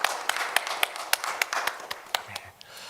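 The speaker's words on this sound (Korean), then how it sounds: "하나님께 영광의 박수 올려드리겠습니다." A church congregation claps for the glory of God in a steady rhythmic beat, with sharp regular hand claps standing out over softer scattered clapping before it fades out.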